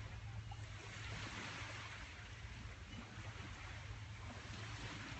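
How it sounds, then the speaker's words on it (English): Ocean waves washing onto a beach in Thailand, a steady, dense roar of surf with constant hiss and low rumble, loud and unbroken, with wind noise and no voices. "Allow the breath and the sound of the waves to soothe you and to calm you."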